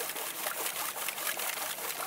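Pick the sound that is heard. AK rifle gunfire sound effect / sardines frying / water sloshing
water sloshing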